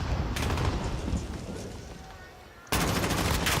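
Call of Duty League 2020 esports match with Luca and JCap fighting, bomb planted: dense bursts of in-game gunfire, dipping briefly then erupting loud again near the end, under faint caster talk.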